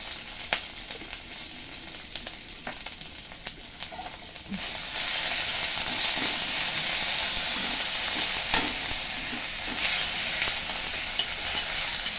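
Ginger paste dropped into hot oil in a pan gives a few stirring clicks and taps, then a sudden loud, steady sizzling hiss that holds close and bright to the end.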